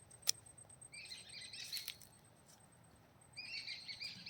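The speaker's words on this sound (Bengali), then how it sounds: "হালকা সমুদ্রের গর্জন আর সাথে পাখির আওয়াজ।" Birds chirp and tweet in short bright bursts at a beach eco camp in Balasore, Bagdah, with a faint, steady sea roar low underneath and no talk.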